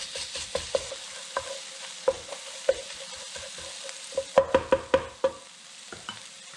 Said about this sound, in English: We're going to add the garlic. I'll turn the heat up a little bit.